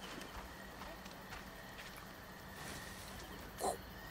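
Horse hooves clip-clopping in Assassin's Creed Origins as a rider passes ahead: a faint, steady trot beneath low game ambience, with one brief louder knock near the end.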